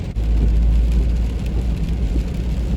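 A car drives through heavy rain, giving a steady, close rumble of road and rain noise inside the cabin that stays at an even loudness throughout.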